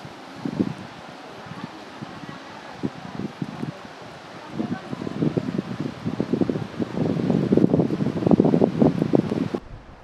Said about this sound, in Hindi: काफी तेज हवा चल रही है अभी